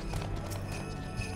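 Horse mount trotting in Final Fantasy XIV, a steady run of hoof clip-clops over a dense game soundscape with music, with a brief whinny-like tone under the hooves.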